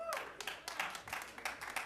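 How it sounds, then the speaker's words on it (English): Comedy club audience clapping, a sparse, quiet patter of a few separate hands rather than full applause, with speech faintly present. "Any Jews by round of applause?"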